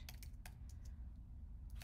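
Quick, faint keystrokes on a computer keyboard tap out an irregular run of clicks in a quiet room over a low background hum, with no talk.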